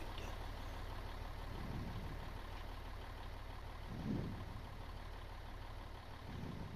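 A fire truck's large 113-horsepower diesel engine idles steadily nearby with a low, constant rumble and a brief surge partway through.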